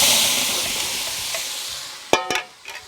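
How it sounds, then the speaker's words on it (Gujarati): Potatoes tipped into a hot pan of oil sizzling with whole chillies, curry leaves and turmeric for Gujarati tempered rice; steady loud frying hiss that fades slightly, then a few sharp stirring clatters near the end. "થોડી હળદર નાખીશ અને તરત જ આપણે જે બટેટા હતા ને એ નાખી દેવાના."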